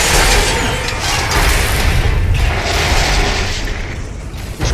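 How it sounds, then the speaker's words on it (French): A loud, sustained rumbling explosion roars through a laboratory in the LEGO Marvel Super Heroes game, a dense, continuous blast filling the whole moment with no voices. "Intrusion potentielle dans le laboratoire, confirmée par une violente explosion."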